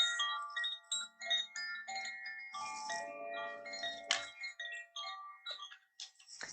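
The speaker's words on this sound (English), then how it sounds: "using a little bit of chimes" Bright metallic chimes ring out in a cascade of overlapping tones, notes sustaining and shimmering, struck repeatedly with a final flurry near the end.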